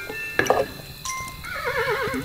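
Horse neighing in the video game Kingdom Two Crowns: a short whinny rises mid-clip, then a longer wavering neigh trails off, set against a soft ambient game backdrop.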